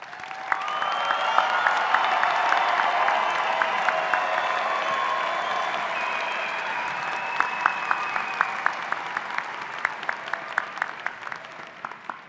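Commencement audience at a College of Health and Human Sciences ceremony applauding graduates with distinction: sustained, dense crowd clapping across the whole stretch, steady and loud, thinning to scattered individual claps near the end, no talk over it.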